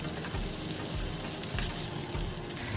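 Salmon pan-frying for teriyaki gives a steady soft sizzle with faint crackles, continuous and fairly quiet throughout.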